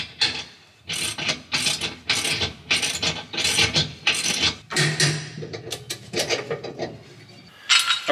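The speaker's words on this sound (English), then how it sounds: "So I'm going to go ahead and get the nut started." Hand-tightening the top nut on a Pullrite 5th wheel hitch, giving a close series of rapid ratcheting and rasping metallic clicks in repeated bursts, with brief pauses between strokes and no talking.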